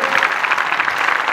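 A studio audience at a stand-up comedy show claps in sustained applause, a dense crackling wash of many hands without pause, close and loud throughout.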